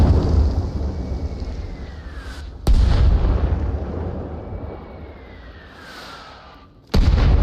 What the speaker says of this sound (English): they've got a team moving in under the mortar fire